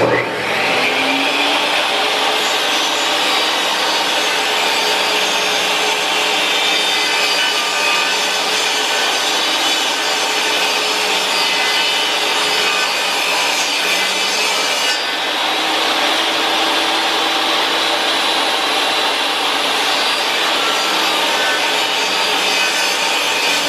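A table saw rips a piece of wood along the fence, a loud steady whine with a broadband cutting roar that holds for the whole stretch and shifts pitch slightly partway through.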